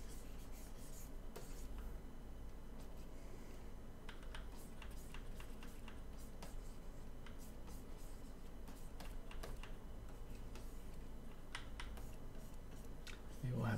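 Light plastic clicks of bracket keys being pressed on a computer keyboard during digital painting in Clip Studio Paint, scattered irregular taps at a steady low level over a continuous faint background hum.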